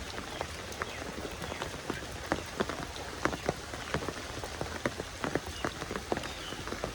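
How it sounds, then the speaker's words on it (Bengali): Steady rain pattering on a surface, dense and continuous, with scattered louder drops standing out against the wash. "একেবারে প্রচুর পরিমাণে বৃষ্টি"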